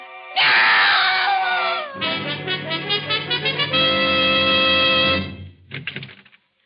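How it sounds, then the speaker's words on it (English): A woman lets out a long, loud scream in an old-time radio drama. It starts piercing and high, then settles into a sustained, wavering wail that fades into a few shorter broken cries. "I heard a scream."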